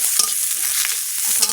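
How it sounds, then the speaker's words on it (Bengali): Potatoes fry in a pan with a close, steady hiss and a few faint scrapes. The burst is short and has no voices. "আলু আলাদা করে ভেজে নিলাম"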